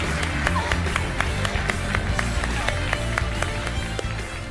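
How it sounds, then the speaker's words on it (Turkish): A studio audience on a Turkish TV singing competition applauds the first finalist, a steady wash of clapping with sharp rhythmic claps standing out, loud and continuous. "ilk finalist, alkışlar onun için"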